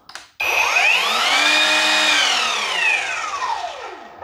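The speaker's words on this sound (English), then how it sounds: "Soft start and electronic blade brake." An Evolution 36V cordless sliding double-bevel mitre saw spins up with a soft start to a loud, steady whine, then its electronic brake winds the blade down in a falling tone over about a second.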